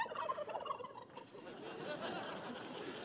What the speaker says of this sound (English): You picked two great turkeys.